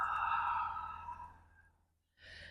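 A long, audible exhale during a yoga breathing practice trails off into silence, followed by a short breathy sound starting again near the end.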